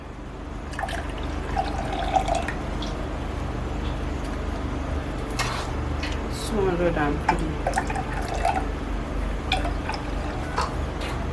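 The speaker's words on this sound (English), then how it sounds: "So I'm measuring out my water now." Water trickles and splashes into a measuring container at close range, a steady pouring sound with faint background noise.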